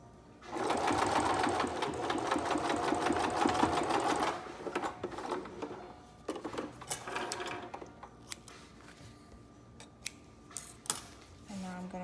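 Home sewing machine running a zigzag stitch on fabric for a homemade face mask, a steady close rapid whir for about four seconds, then scattered handling clicks and light fabric rustle.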